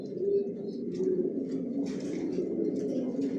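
Pigeons cooing inside a bedding loft that houses stock pairs, soft repeated low coos layered over a steady murmur of many birds, with faint chirps and rustling nearby.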